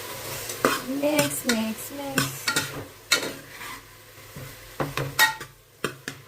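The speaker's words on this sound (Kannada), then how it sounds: "ಟೊಮೆಟೊ, ಈರುಳ್ಳಿ ಹಾಕಿ ಮಿಕ್ಸ್ ಮಾಡೋದು" Tomato, onion, chickpeas, cinnamon and cloves stir-fried in a pot for mutton biryani: repeated spoon scrapes and clinks against metal over a light sizzle, close and moderately loud, with one brief spoken word.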